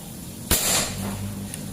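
A PCP mini folding air rifle with Monel barrel at 3500 psi fires once, its pellet shattering a brick fragment in a single sharp, loud crack followed by a brief scattering rattle over quiet background.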